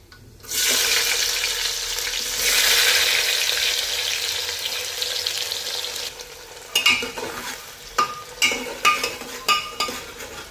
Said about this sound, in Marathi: कांदा जास्त पण लाल करायचा नाही, अगदी थोडासा परतवून घ्यायचा आहे फक्त